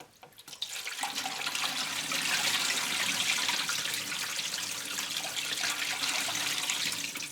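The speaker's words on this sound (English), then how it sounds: "I've got a bowl of water I'm going to pour in here" Water from a bowl pours into a vortex generator over a sink, a continuous close rushing and splashing that starts abruptly and holds steady for several seconds, with no voices.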